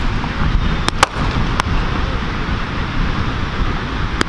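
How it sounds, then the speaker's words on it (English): Fireworks going off outdoors, a steady roar of crackling and fizzing with a few sharp pops standing out over the din. "that's why you can't give fireworks to kids"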